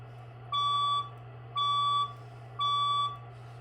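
A building fire alarm test sounds three evenly spaced electronic beeps, each about half a second long, loud and close over a steady low hum, with no voices.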